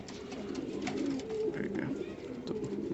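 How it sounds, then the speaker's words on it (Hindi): English Saddle fancy pigeons coo in low, rolling, overlapping calls close by, a steady throaty murmur with faint rustling and fluttering mixed in. "ये प्योरिटी पे हैं ये कबूतर जो भी मेरे पास हैं। ये परेशान हो रहे हैं अभी"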